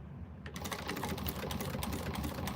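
A sewing machine back stitches on a quilted fabric bag, starting after a short quiet moment and running as a close, continuous, rapid rattling hum.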